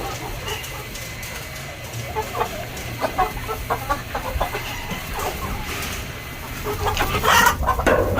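Farmyard chickens cluck in short irregular bursts, close and fairly loud, growing busier and more agitated toward the end over a steady background hum.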